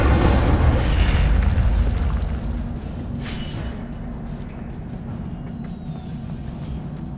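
Fire spell Incendio cast in Hogwarts Legacy: a loud, deep whooshing burst of flame that roars heavily at first, then settles into a lower sustained rumble and crackle, with no talk.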